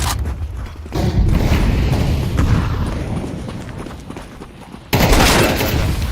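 Fire grenade thrown in Counter-Strike 2 bursts amid heavy gunfire, with booming impacts and crackling shots layered loudly over one another, then a sharp renewed burst near the end.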